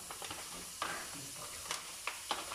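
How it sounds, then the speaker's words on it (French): Bacon lardons sizzle quietly in a pan as they are deglazed for spaghetti carbonara, a soft hissing fry broken by a few sharp spatter pops and stirring scrapes, with no talking. "on met les lardons à déglacer"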